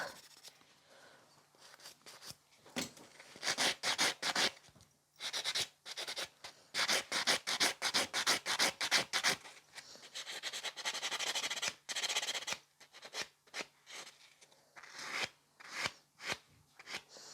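A fingernail's free edge is filed and buffed in quick bursts of close, dry scratchy rasping strokes, some runs rapid and dense, others sparse, with short pauses between and no talk.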